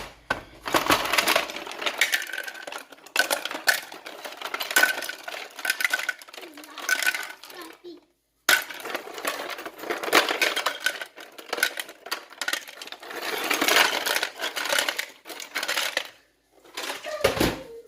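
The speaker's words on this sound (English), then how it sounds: "Okay, so he's going to be putting in the ice." Ice clatters and crunches as it is loaded into a Margaritaville slushie machine, a dense, continuous rattling and grinding at close range with a brief pause midway, no voices over it.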